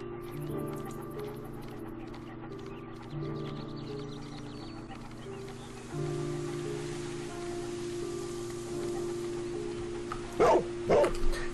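A dog in the Sherlock Holmes: Crimes and Punishments video game gives a few short barks near the end over a low humming game ambience, with no talking.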